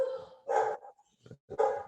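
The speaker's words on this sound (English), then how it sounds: "Dog." A dog barks three times, close and fairly loud, with short sharp barks separated by brief gaps of quiet.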